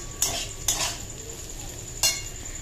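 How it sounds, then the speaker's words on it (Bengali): Potatoes fry in a pan under a faint steady sizzle, and a utensil knocks against the pan three times in close, crisp taps. "এখানে দেখো এই যে আলুটা ভাজা করছি"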